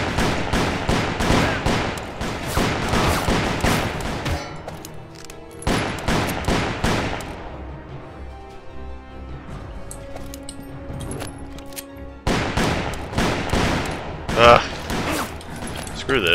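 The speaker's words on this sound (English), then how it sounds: "It's like a machine gun. What the hell? Semi-auto pistol." Rapid semi-automatic pistol fire in the PC shooter Call of Juarez, played on hard difficulty: dense bursts of shots in quick succession, loud and close, with a quieter gap in the middle and a voice talking over parts.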